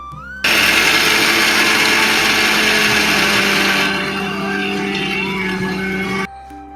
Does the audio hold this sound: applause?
no